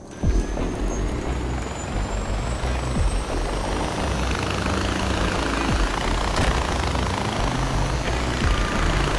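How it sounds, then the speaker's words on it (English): Steady helicopter rotor drone fills a video game scene, with a rumbling engine-like bed and a thin high whine layered on top, loud and continuous throughout. "I found the chopper, Hurk."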